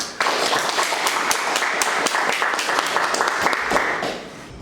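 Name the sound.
applause welcoming a speaker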